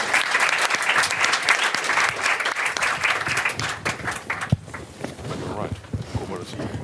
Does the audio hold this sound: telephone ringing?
no